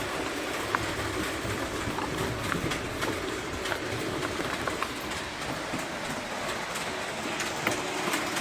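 Model trains running on a layout during a Sunday afternoon train run at a hobby store in Cortland, giving a steady rolling rumble with faint rhythmic clicks of wheels over track joints, continuous and moderately distant, with no talking.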